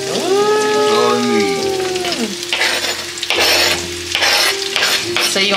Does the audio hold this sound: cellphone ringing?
no